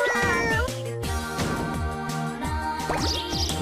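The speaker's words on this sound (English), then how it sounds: "All of the kitties will be mine." Cartoonish cat meows from the video game Katamari Damacy, several short rising mews over bouncy game music and plinking drip-like effects, with no voice.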